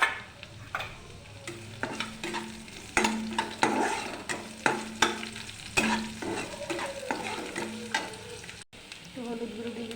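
Onion and green chilli stir-frying in hot oil for chowmein, a sizzle punctuated by repeated sharp scrapes and clanks of a spatula against the pan in an uneven rhythm, close and alone.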